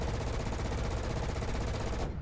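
An aircraft cannon fires in the War Thunder flight game, a loud, rapid, unbroken burst of shots close up. It lasts about two seconds, then cuts off abruptly.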